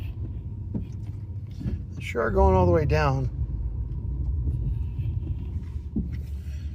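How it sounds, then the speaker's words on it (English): A 2007 Ford Taurus eases backward in a parking lot under a little throttle, its low, steady engine rumble running throughout while someone talks over it. "we're going to just go in reverse, give it a little gas"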